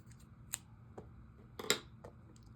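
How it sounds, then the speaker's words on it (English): Scissors snipping yarn while knitting a baby beanie, a few quiet, sharp clicks spread across a couple of seconds, with a louder double snip near the end over a soft background hum. "I'm going to cut it off just so it's not in my way."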